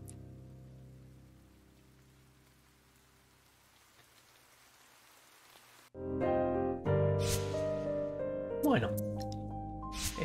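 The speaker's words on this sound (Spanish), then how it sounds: "Me gusta que tiene lluvia." Quiet, steady rain patters in the Ender Lilies video game, a faint hiss for several seconds before louder music and game sounds abruptly take over.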